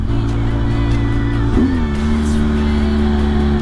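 A boxer engine holds the car back on a steep mountain pass descent, a loud steady drone that shifts pitch once partway through, then settles into a lower sustained hum.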